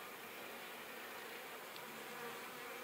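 Honey bees in a horizontal hive with comb, honey and bee bread hum in a steady, dense buzz that stays close and even throughout, with no voices.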